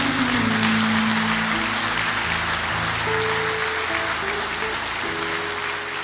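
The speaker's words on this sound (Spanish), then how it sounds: "Más fuertes aplausos para el Señor." A church congregation claps throughout a Sunday service, dense sustained applause over held keyboard or organ chords.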